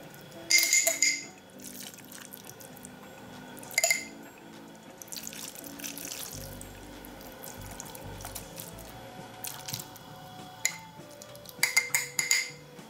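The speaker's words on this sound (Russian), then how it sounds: "И заливаем бульоном." Broth pours and splashes into glass jars packed with meat for aspic (kholodets), with liquid trickling and dripping, short bright clinks of glass, and a few louder bursts of pouring at the start and end.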